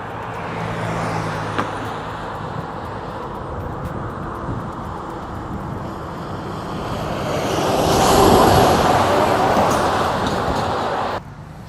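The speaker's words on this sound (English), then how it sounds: "This is kind of rush hour traffic." Rush hour road traffic heard from a personal electric vehicle, a broad steady roar of passing vehicles that swells as a louder one goes by near the end, with no talking.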